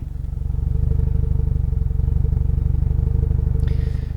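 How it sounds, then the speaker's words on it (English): Steady idle of a 2003 Subaru Impreza WRX STi Version 8 flat-four through equal length headers, an even, smooth pulsing burble with little lumpiness, loud and close, with a brief hiss near the end. "The exhaust of an Impreza usually goes. Listen to this one."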